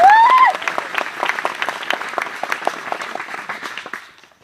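Audience applause honouring an elder at a career opportunity programme in Gatadih, following a short whistle-like tone at the start; dense clapping from a crowd, steady then fading out over a few seconds.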